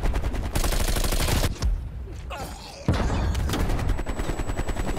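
Gunfire during a video game gunfight: loud, rapid automatic bursts in close succession, broken by a brief lull with scattered shots and a heavy thump, then more sustained firing.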